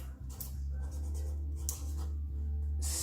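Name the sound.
handwriting a label for a gin bottle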